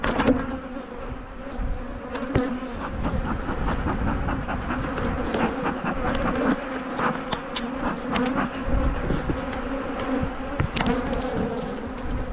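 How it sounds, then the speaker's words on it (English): A disturbed hive's honeybees keep up a thick, agitated buzzing swarm nearby, constant and loud, with bees zipping close past in quick passes and no voices. "Yeah, they're not happy bees, are they?"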